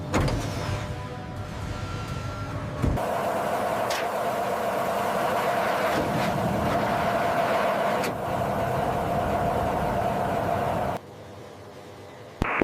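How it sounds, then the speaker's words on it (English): An F-16 Block 70 Viper's landing gear retracts inside a factory: a steady mechanical whine and hum holds for about eleven seconds, then drops to a quieter tone before a short final clunk. "Landing gear retraction complete."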